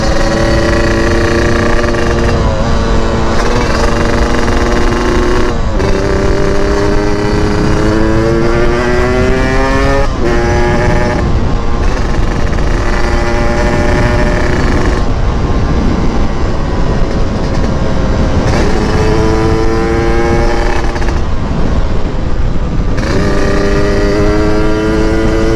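A Yamaha RX-King two-stroke motorcycle rides a bumpy, wavy road, its loud, close engine droning continuously and rising and falling in pitch with each throttle change, under heavy wind roar.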